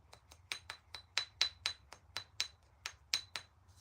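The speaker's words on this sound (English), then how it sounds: "Good quality knapping stone has a bit of a ring." Knapping stone struck repeatedly in a quick, uneven series of sharp taps, each with a faint bright ring, fairly quiet and close over a low background hum.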